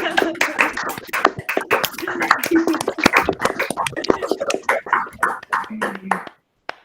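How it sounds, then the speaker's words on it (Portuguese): Participants in an online video meeting clap together through open microphones, a dense, uneven patter of many hands close up that thins out and stops, with a few voices mixed in. "Peço a todos que abram seus microfones para aquelas palmas maravilhosas para essa excelente profissional"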